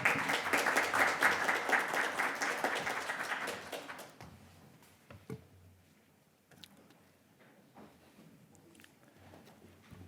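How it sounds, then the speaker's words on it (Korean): Audience applause welcoming a National Assembly member to the podium at a policy forum on digital therapeutics, a dense burst of clapping for about four seconds that then fades to scattered taps and room quiet. "큰 박수로 맞아 주시기 바랍니다."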